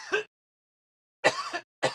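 A man coughs into a podcast microphone, three short harsh bursts: one quick cough, a pause, then a longer rasping cough and a final brief one, close and dry.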